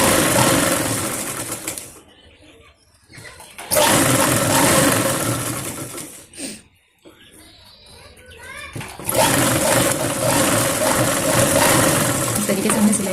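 An electric sewing machine stitches fabric for a small girl's palazzo top in loud, steady whirring bursts of a few seconds each, separated by pauses with quieter handling of cloth.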